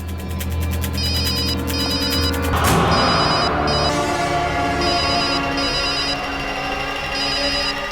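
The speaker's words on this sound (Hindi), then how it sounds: "फोन की आवाज तो यहीं कहीं से आ रही है।" A telephone rings repeatedly in a steady electronic pattern, loud and close, over a dense, droning musical background.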